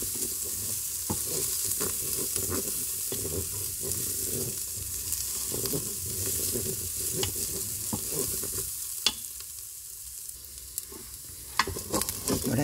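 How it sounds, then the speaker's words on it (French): Rice fries in a Cookeo pot for a courgette and bacon risotto while being stirred, a continuous close sizzle with regular spoon scrapes and a couple of sharper knocks near the end, with no one talking. "Et je mélange bien jusqu'à qu'il soit translucide."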